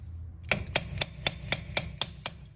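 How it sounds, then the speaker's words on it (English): Eight sharp metallic taps at a steady beat, a hammer striking a small screwdriver during a drum brake job on a GMC motorhome, close and clear with no talking. "you get your small screwdriver and your hammer"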